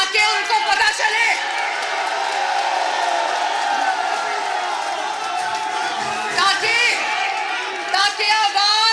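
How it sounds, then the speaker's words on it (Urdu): A large crowd at a political rally in Sheikhupura, Pakistan, chants slogans together in loud rhythmic surges, with voices swelling and dropping across the whole stretch, close and dense. "یہ نعرے جو آپ لگا رہے ہیں"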